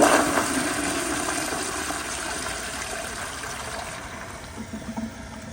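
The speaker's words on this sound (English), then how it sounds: "But here's a flush." An American Standard Yorkville toilet, a 2012 model, flushes close by in one strong gush of water that slowly tapers into a quieter refill, with no talk.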